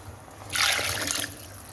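Three glasses of water pour into moong dal khichdi in one short, bright splashing burst lasting under a second, close and moderately loud over low room noise.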